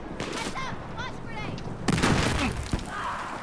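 Gunfire crackles in the Battlefield 4 shooter, with rapid bursts and sharp single shots over battlefield noise. Someone talks over the shooting.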